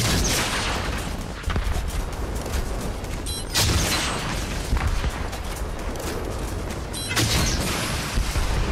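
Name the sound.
rockets firing and exploding in Fortnite video game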